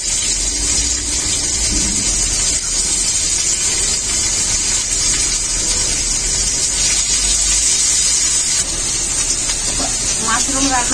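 Chopped onions hit hot oil already frying whole spices (dried red chili, cinnamon, cloves, cardamom and fenugreek), setting off a loud, continuous sizzling hiss that stays close and steady the whole time.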